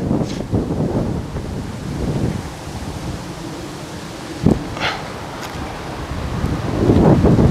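Wind gusting across an open disc golf course, buffeting the microphone in uneven surges that swell, ease off and build again, loudest near the end, with one brief knock midway.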